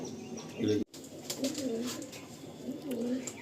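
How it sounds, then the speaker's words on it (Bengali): Soft cooing of Andhra pigeons in a steady low rhythm, close by, with a brief flutter and quiet background noise. "দেখুন পিওর আন্ধ্রা পায়রা, খুব সুন্দর।"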